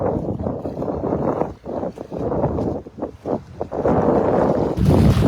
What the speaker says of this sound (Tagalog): Salubong sa'yo ang hangin